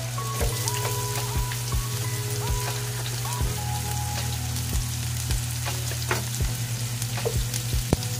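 Onion and garlic sautéing in cooking oil for a pork and vegetable dish, a steady dense sizzle with crackling pops and a low hum beneath, near and continuous with no talking.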